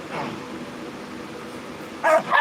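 Dogs wanting to be fed give a quick pair of sharp barks near the end, fairly close, after a stretch of quiet room noise.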